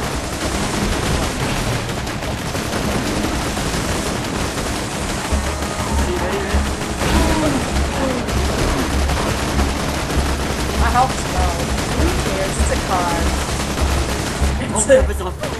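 Rapid gunfire from the video game Borderlands 2 crackles continuously in dense bursts, mixed with game effects and players talking over the action.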